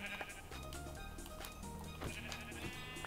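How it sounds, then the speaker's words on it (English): Sheep in the Minecraft video game bleat several times in short, nasal calls over steady background game music, clear and close. "Sheep."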